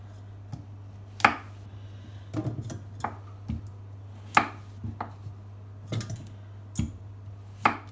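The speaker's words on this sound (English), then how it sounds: "we're just going to cut these in half" Knife cutting potatoes in half on a board in a home kitchen, about a dozen sharp chops spread irregularly over several seconds, close and clear over a steady low hum, no speech.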